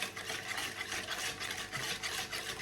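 Eggs and sugar being stirred together in a bowl, a steady scraping and swishing that runs continuously with soft rhythmic pulses and no voices.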